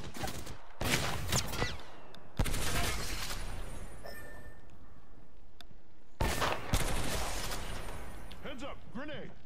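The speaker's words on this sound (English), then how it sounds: "I'm getting shot" Gunfire in the video game Apex Legends, with repeated sharp bursts and rattling volleys that arrive in several loud clusters, separated by quieter gaps with game effects.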